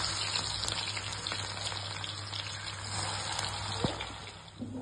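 Chopped onions frying in hot oil for chicken biryani, a steady crackling sizzle with scattered sharp pops over a constant low hum, no talking.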